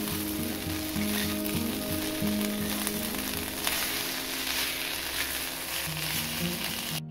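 Spinach, curry leaves and frozen green peas are stir-fried in a pan, giving a steady, close sizzle with faint stirring beneath soft background music.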